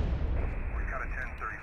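Gunfire in an underground garage in GTA San Andreas booms with a heavy, rumbling echo that fills the space and slowly decays, and a voice is heard briefly near the end.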